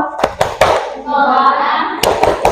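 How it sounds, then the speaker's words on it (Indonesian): Short, sharp claps, a class group's thumb-clapping chant in a classroom, come in a quick cluster of three, then pause under a sung or chanted voice, before another burst of several claps. "tepuk jempol dulu"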